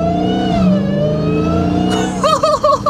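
A 2023 Dodge Challenger Hellcat Jailbreak with a Legmaker intake revs hard from inside the car, a loud rising engine roar with a high supercharger whine, ending in quick pulsing throttle blips.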